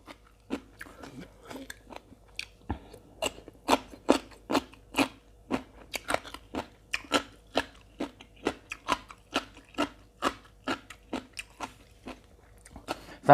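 Crisp, regular crunching bites of a pounded Thai salad of crunchy vegetable with squid tentacles, loud and close, dozens of bites in a steady chewing rhythm with nothing else heard.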